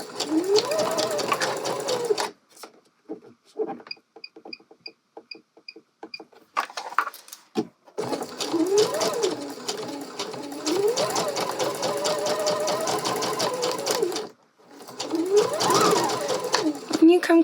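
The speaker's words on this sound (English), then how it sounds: "go ahead and sew in the round along that first fold" A home sewing machine stitches a dress in the round along the first fold of bias tape, running in long steady bursts with brief pauses, close and clear, while someone talks between runs.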